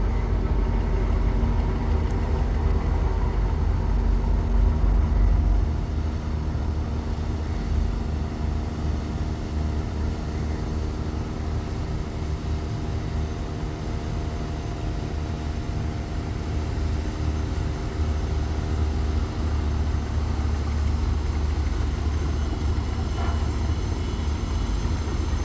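Steady low rumble of the large Surovi-8 passenger launch's engine cruising on a river on the Dhaka–Ilisha route, a constant drone running unchanged throughout with no voices.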